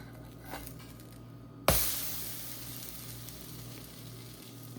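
A flipped uttapam sizzles in a covered pan: a sudden sharp hiss as the batter hits the hot surface, then a steady close frying crackle that slowly fades, with no talking.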